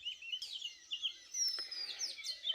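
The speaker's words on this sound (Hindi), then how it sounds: "आप लोगों को बहुत सारी आवाज़ें भी सुनाई दे रही होंगी पक्षियों की" Birds chirp and tweet steadily in a deep, untouristed Himachal Pradesh forest, several high calls overlapping at a moderate distance with no voices.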